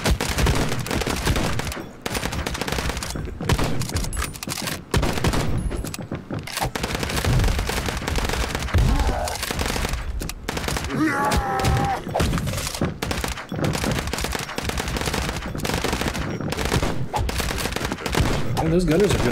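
Rapid automatic gunfire from Madness Project Nexus, dense bursts of shots and thuds rattling almost nonstop for the whole stretch, loud and close with brief gaps between volleys.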